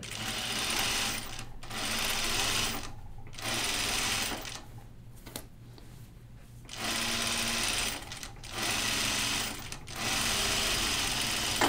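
A sewing machine stitches a fabric hem with the presser foot holding it, running in loud close rapid bursts separated by brief pauses.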